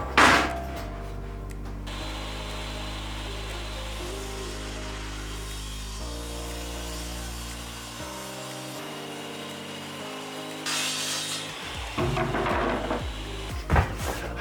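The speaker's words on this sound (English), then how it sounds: "as long as I keep it straight and the saw doesn't stop while I'm cutting" A power saw runs steadily through a sheet of heavy plywood, with a sustained droning whine that shifts pitch as the cut progresses and ends in a louder rattle of the board near the finish.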